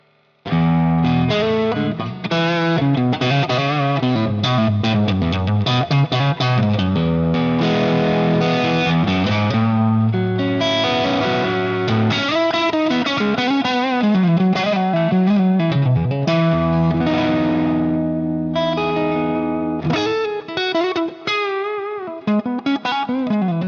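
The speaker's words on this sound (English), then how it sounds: "you get this really nice clear sounding reverb, which is very nice to play through" A distorted electric guitar through a Marshall Plexi amp preset on a Fractal modeler plays continuous chords and melodic runs, sustained and drenched in reverb, loud and close throughout.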